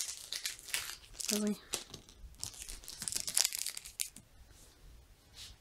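A small plastic packet holding a pendant is crinkled and torn open by hand, with close rustling and crackling throughout while someone speaks briefly.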